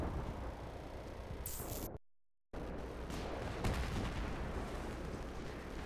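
Explosions from C4 and grenades in Battlefield 3 gameplay: loud, dense blasts with rumbling debris, broken by a brief dropout, then heavy continuous booms and crackle through the rest.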